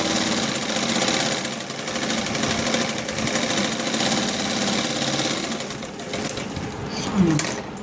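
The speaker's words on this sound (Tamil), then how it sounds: "ஒரு ஸ்டிச்சிங் கொடுத்தாச்சு" A sewing machine runs continuously while stitching a blouse lining, a loud close mechanical whir with a fast rattling stitch rhythm that slows and sputters briefly near the end.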